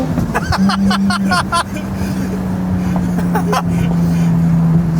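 A Porsche Spyder's engine hums steadily nearby with a sustained tone, while people talk over it and short bursts of voices and noise stack on top early in the clip.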